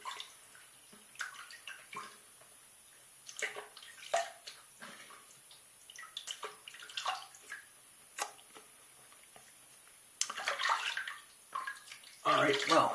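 Water from a tap splashes and trickles in irregular, close bursts as a face and razor are rinsed after a shave with a shave stick and Hema blade, with faint sounds of movement.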